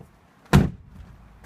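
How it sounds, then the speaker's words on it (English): A door on a 1980 Mercedes 300TD Turbo station wagon swings shut with a single solid, close thunk, followed by quiet. "Close all these doors."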